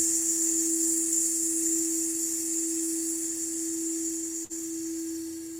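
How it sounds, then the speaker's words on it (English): A long, breathy hiss of exhaled air rises over the steady, ringing hum of a solar plexus singing bowl, the soft sustained outbreath continuing for several seconds with a brief dip near the end. "you're going to release on a hissing sound like this"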